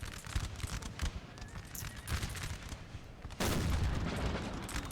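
Artillery and massed gunfire on a Napoleon: Total War battlefield, distant crackling volleys and booms that swell into a louder sustained barrage near the end.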